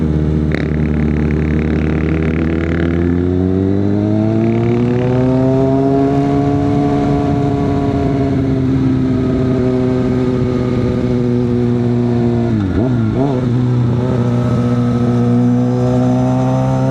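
A 2022 Kawasaki ZX6R sport motorcycle engine while riding, loud and close, its harmonic whine steadily rising and falling with the revs throughout, with a brief dip and flutter near the end.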